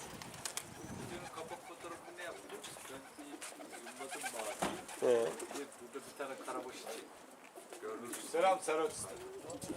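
Pigeons in Mardin, Turkey coo softly in low, throaty bursts nearby while people talk over them, with a faint flutter of wings.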